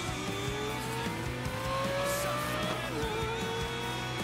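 Racing cars in Need for Speed: Most Wanted, a steady engine drone with rising and shifting revs and tire squeal, loud and continuous throughout.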